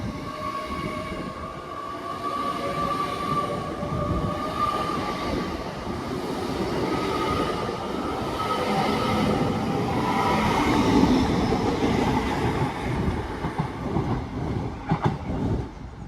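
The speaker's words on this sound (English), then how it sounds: "Incoming is the 11:38 West Midlands Railway service to Walsall from Wolverhampton" A West Midlands Railway train on the Walsall line, running from Wolverhampton to Walsall, rumbles steadily closer, its rolling noise building to a loud, close pass with clattering wheels near the end.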